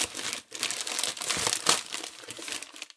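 Plastic packaging for a parcel of Ugreen accessories crinkles and crackles continuously and close up for several seconds as it is opened, with brief pauses and sharper rustling bursts.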